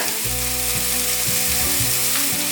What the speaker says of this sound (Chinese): 把调味料炒匀